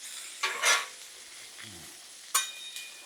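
Vegetables for steak fajitas on a hot griddle give off a quiet sizzle, broken by a few sharp scrapes and clinks of a spatula against the metal surface.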